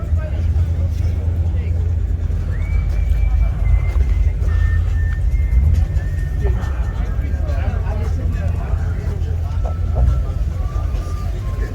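A Lamborghini at an exotic car festival in 2021, a steady low engine rumble that continues throughout, with crowd noise and people talking nearby.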